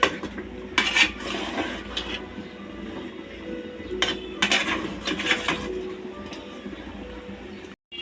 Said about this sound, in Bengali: খুব ভালোভাবে কষিয়ে নিচ্ছি